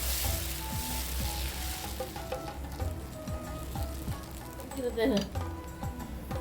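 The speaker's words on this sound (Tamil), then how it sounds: "தோசை ஊற்றி காமிக்கிறேன். தோசை எப்படி வருதுன்னு." White sorghum dosa batter sizzles on a hot pan as a soft, continuous crackle, with occasional clinks of a utensil against the pan.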